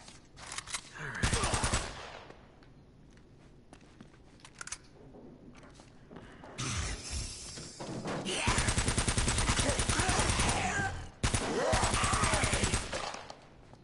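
Gunfire in the video game Uncharted 1: sustained bursts of rapid automatic fire and single shots, loud and close, broken by short quieter gaps, with some voices between the volleys.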